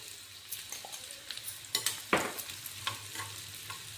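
Chopped onions frying in a pan, with scattered stirring scrapes and a few sharper clinks over a low steady sizzle, close up and without talk.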